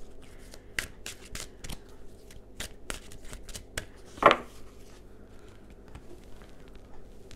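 Cards being shuffled in quick riffling bursts, crisp and close, with a louder flick partway through and no talking.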